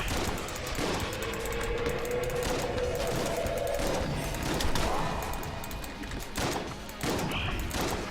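The Cannon Balrog gun in the video game Enter the Gungeon fires a rapid barrage of booming blasts and crashes, with a rumbling in-game soundscape continuing throughout.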